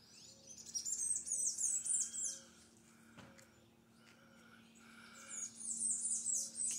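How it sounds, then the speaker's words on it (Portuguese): Faint high-pitched birdsong twitters in quick trills, fading in the middle and returning, over a quiet outdoor background with a soft low hum, in a small town square in Miracatu, Brazil. "muito som de pássaros"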